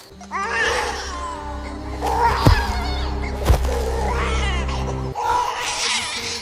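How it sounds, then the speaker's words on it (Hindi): A human baby left in a dark jungle in an animated story cries in several wailing bursts, broken by a couple of sharp thuds and short pauses. "किसकी रोने की आवाज है?"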